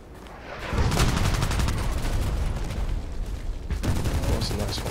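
Dense video-game gunfire, rapid bursts and shots stacked into a loud sustained barrage from about a second in, with a brief dip near four seconds before the shooting resumes; faint voices sit under it.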